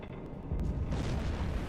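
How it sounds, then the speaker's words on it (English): A torpedo impact explosion in a WWII submarine simulator game: a deep, rumbling boom that swells midway and rolls on with a heavy low roar, loud and alone with no talk. "I heard the explosion. Torpedo impact."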